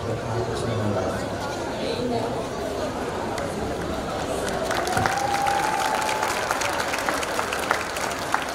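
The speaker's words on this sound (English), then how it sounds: "Let's give them one more round of applause." A crowd at an outdoor Christmas tree lighting ceremony gives a sustained round of applause, moderately loud and spread out, with chatter and a few cheers mixed in.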